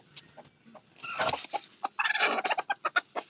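A domestic hen kept inside a house clucks nearby in an irregular series of short calls that grow busier and louder toward the end.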